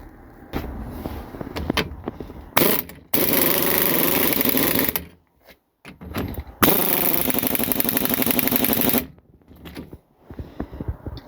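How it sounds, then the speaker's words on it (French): An air compressor runs to power an impact wrench during suspension work on a Peugeot 208 Phase 1, with loud sustained mechanical roaring in long stretches broken by sudden stops and quieter gaps, close by. "La fameuse clé à choc, mais c'est mon compresseur."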